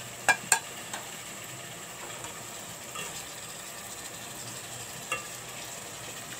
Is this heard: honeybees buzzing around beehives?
no